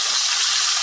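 Ribeye steak edges crisp in hot bacon grease, a brief, steady, bright sizzling hiss with no voices.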